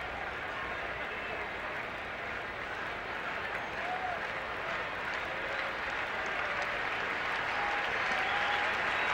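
A baseball crowd at a 2001 NLDS playoff game between the Diamondbacks and Cardinals roars and applauds in a sustained, building wash of cheering that fills the ballpark.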